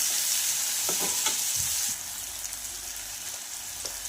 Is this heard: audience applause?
no